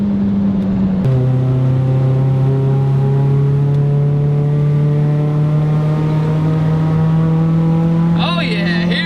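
An early-2000s Ford Focus SVT engine pulls hard from inside the car, with a brief dip at a gear change and then a long, loud, rising drone as it accelerates.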